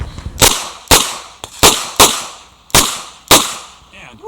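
Six sharp, loud gunshots ring out from a Chiappa Rhino .38 Special revolver at a shooting match, fired at an uneven pace about half a second to a second apart, each with a short decaying echo.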